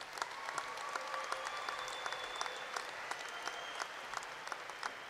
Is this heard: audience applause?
yes